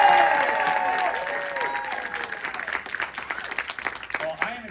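A crowd at a fan convention panel for a Lost Boys reunion breaks into loud, sustained applause mixed with cheers and shouts, which slowly thins out toward the end.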